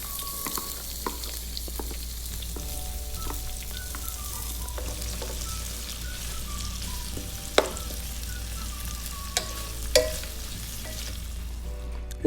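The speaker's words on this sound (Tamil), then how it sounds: "நறுக்கி வச்சுருக்க வெங்காயம் இதை ஆட் பண்ணி நல்லா கலந்து விட்டுடலாம்." Chopped onions and green chilies sizzle steadily in hot oil in a pan while being stirred for tomato pulao. Occasional soft clinks of the utensil sound against the continuous frying hiss.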